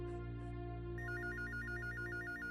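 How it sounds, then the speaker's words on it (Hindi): A telephone rings in a Pakistani TV drama scene: a steady pulsing electronic ringtone starts about a second in and repeats evenly over a low background hum, with no talking. "खैरियत का फोन।"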